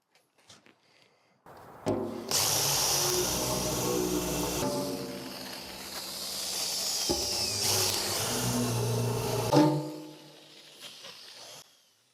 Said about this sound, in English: And now we're ready to drill.